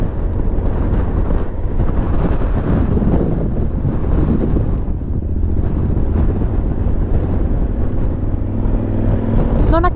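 Steady, heavy wind buffeting a microphone outdoors in Punta del Este, Uruguay, a constant low roar throughout with faint background noise and no clear talk.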